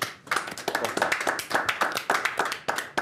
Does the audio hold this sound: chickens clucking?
no